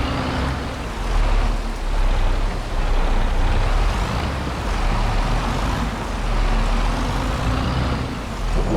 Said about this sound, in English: let's put the tractor in the shed for now